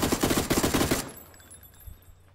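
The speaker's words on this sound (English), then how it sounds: "Oh, there's gunfire." A rapid burst of automatic gunfire in the video game PUBG for about a second, then it cuts off, leaving quieter scattered shots and rumble in the distance.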